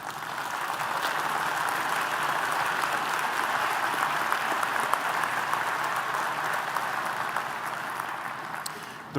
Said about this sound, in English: Let us applaud the recipients of the bachelor's degrees.